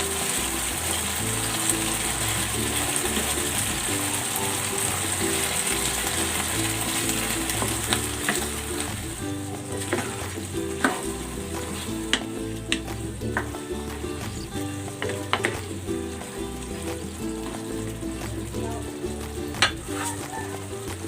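Shrimp tipped into a pot of simmering first-press coconut milk for ginataang gabi, giving a steady close sizzling, bubbling simmer with faint clinks and stirring clatter throughout, no voices.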